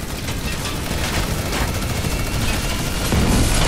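Dense, continuous gunfire in the Fortnite video game, a loud crackling barrage of rapid shots that stays busy for several seconds and swells louder near the end.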